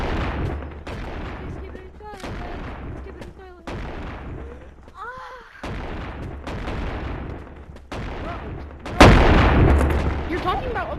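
Shotgun blasts in the VR game Animal Company ring out as a series of loud booming shots among players' shouting voices, with a heavier burst near the end.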